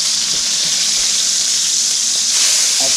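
Steak searing in a hot pan with shallots nearby, a loud, dense, steady hiss of sizzling fat filling the whole stretch without break.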